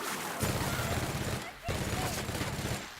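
Dense, continuous gunfire from a firefight in The Outer Worlds, two sustained volleys of rapid shots with a brief pause between, loud and close, with a voice speaking over it.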